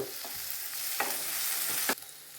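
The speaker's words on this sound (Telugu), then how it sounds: "వేసి కొంచెంసేపు అట్లా వేపుకుందాము" Macaroni with vegetables and tomato sauce frying in a pan: a continuous sizzle, with scraping stir strokes at intervals and a louder knock near the end, and no voices.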